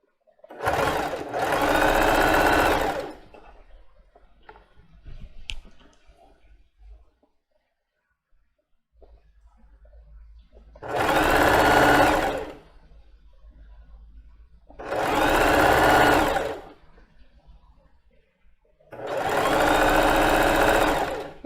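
A domestic sewing machine runs a zigzag stitch over elastic in four long, steady whirring bursts with quiet pauses between them, heard up close with no talk.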